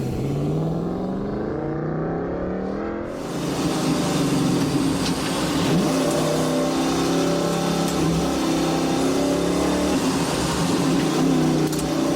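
An Audi race car engine revs hard and repeatedly, the rising and falling pitch sweeps loud and close, with a brief quieter moment before the roaring continues steadily to the end.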